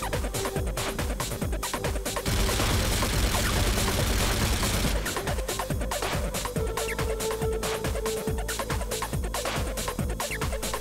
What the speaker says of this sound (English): the last gold gun of the assault rifles is the FAD